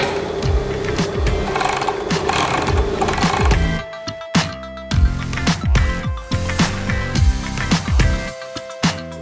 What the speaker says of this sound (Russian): Также включаем машину.